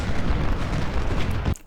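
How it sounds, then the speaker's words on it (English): Massed cannon fire from a large Civil War artillery line in the battle game Ultimate General: Civil War, a dense, continuous rumble of overlapping booms that cuts off abruptly near the end. "Look at how many cannons are here."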